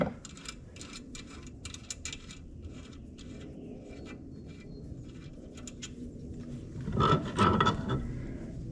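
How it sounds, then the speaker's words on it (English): Hand file cleaning up the freshly cut edge of a threaded bolt: close, fairly quiet rasping strokes in an uneven rhythm, with a louder scraping burst toward the end, no voices. "Using your file, just clean up the edge of the bolt."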